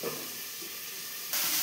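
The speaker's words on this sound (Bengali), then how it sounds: "চলো পেঁয়াজটা ভাজা ভাজা করে নিই।" A small onion fries in a pan alongside potato and cauliflower, producing a constant low sizzling hiss that jumps noticeably louder and brighter near the end, with no voices over it.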